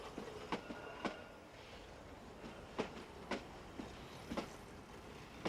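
Kenya Railway safari train rolling along the line, with a steady low rumble and a run of sharp rhythmic wheel clicks over rail joints, close and alone with no voices.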